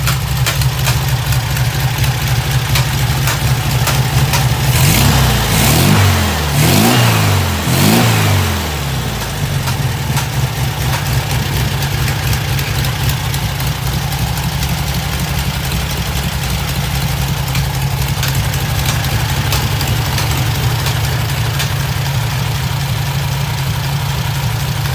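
A 1972 VW Super Beetle 1600 engine runs loud and close, with a few rising and falling revs early on before it settles into a steady, even idle.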